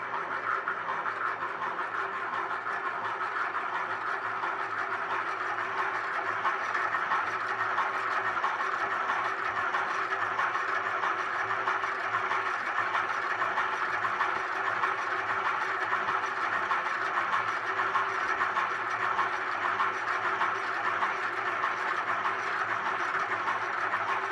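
A hand-cranked honey extractor spinning frames to throw honey from the comb, a continuous even mechanical whirring hum with a faint rattle, steady and close for the whole stretch.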